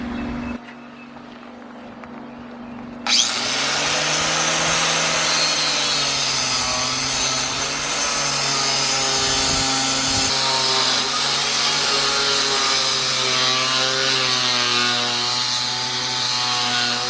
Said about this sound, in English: But this wire wheel takes it right off.